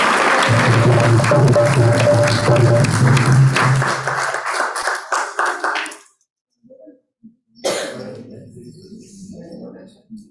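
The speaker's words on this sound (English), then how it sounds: "let's give a round of applause for Vishnu" Round of applause from a gathering at an ISKCON temple in Round Rock, dense clapping for about six seconds that thins into a few scattered claps and a pause, then voices resume.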